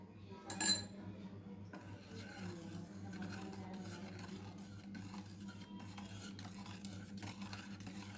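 Milk being stirred into wheat cake batter in a bowl in one direction, producing soft continuous scraping and swishing close by after a brief clink at the start, with no talking.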